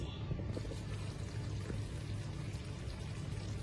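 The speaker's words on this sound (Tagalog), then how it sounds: "lalagyan na po natin ng sabaw para lumambot po yung ating karning baboy" Broth is poured steadily into a pot of pork afritada, giving a soft continuous splashing pour, close and moderately quiet, with no talk.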